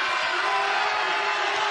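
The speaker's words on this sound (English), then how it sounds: "This crowd making some noise now" A packed arena crowd at a college basketball game, USC at Utah, roars in a steady, loud wash of cheering and noise with no breaks.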